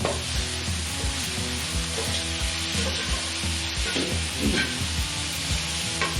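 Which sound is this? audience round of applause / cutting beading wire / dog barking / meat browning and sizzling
meat browning and sizzling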